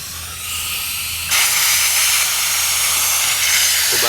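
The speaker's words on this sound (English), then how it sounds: "we've reset up our air compressor for about 40 psi pressure" Compressed air from a shop compressor set to about 40 psi hisses steadily into a wastegate actuator on a 1994-2002 Dodge, a loud continuous rush that steps up sharply in strength partway through.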